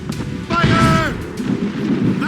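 Ship cannons fire a broadside in Assassin's Creed Rogue, a loud, dense rolling boom lasting about two seconds, with a shouted voice ringing over the barrage.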